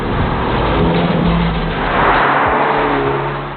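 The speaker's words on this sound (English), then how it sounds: "Even when you're driving at higher revs, there's this nice humming background score to your drive" A Jaguar XE's four-cylinder engine hums steadily at high revs while driving, a loud, continuous cabin drone with a slight swell partway through and no voices.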